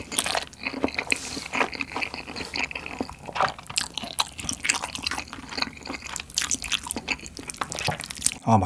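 Close, wet crunching and chewing of corn cheese fire noodles continue steadily, with crisp bites of corn and squishy mouth sounds throughout.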